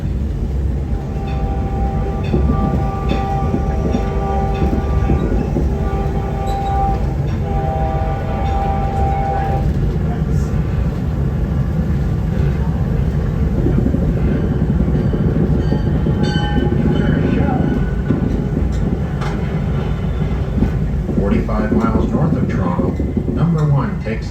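A passenger train travels at speed along the track, a loud continuous rumble with rhythmic wheel clatter and rushing noise sustained throughout, with someone speaking over it.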